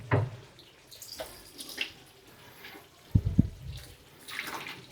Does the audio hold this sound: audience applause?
no